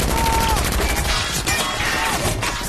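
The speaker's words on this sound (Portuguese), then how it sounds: "Nesse momento que eles estão atirando que nem louco no Tony Stark" Dense bursts of gunfire from henchmen shooting at Tony Stark in an Iron Man movie scene, loud rapid volleys with crashing impacts, packed together over a short stretch with no voices on top.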